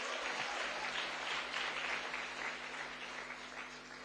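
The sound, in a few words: church congregation applauding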